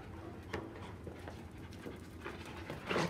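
A 1.5-year-old hound mix pants in short, repeated breaths at close range, with a few louder huffs toward the end over steady background noise; no one speaks.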